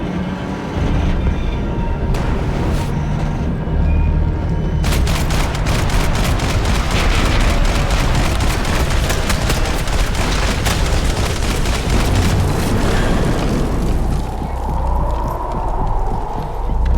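Rapid gunfire from the video game Max Payne 3 rattles in dense, sustained bursts through the middle of the stretch, loud and layered over a busy game background before fading into quieter ambience.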